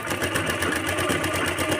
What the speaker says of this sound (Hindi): तो अब हम इसे सिलते हैं।